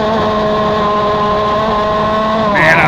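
KA100 junior racing kart engines drone loudly and continuously in a close, steady pack, their high buzzing note holding and rising slightly near the end, with commentary underneath.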